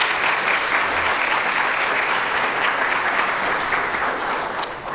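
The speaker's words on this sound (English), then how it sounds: "So let's give that group a big round of applause." Audience applause at a ribbon cutting ceremony for the Rutherford County Historic Courthouse Museum: a steady, dense round of clapping from a crowd that holds at full strength for the whole stretch, with no talking over it.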